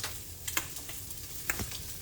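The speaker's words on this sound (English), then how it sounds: "We frying eggs" Eggs fry in a pan with a steady close sizzle, dotted with light crackles and utensil clicks.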